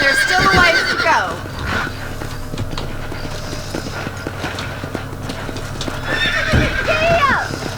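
Horses galloping with steady clip-clop hoofbeats and loud neighs and whinnies in the Red Dead Redemption western video game, the hooves drumming throughout and a whinny near the start and again near the end.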